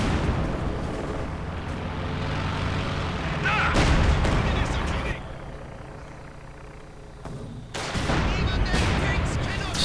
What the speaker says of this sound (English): we've still got the mortar battery singing away